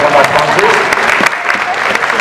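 At a Hands Only CPR event, an audience applauds a guest speaker from Anthem as she comes up, loud, close clapping from a crowd with individual claps standing out and faint voices mixed in.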